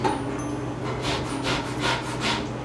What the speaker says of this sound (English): You can take the grater to it,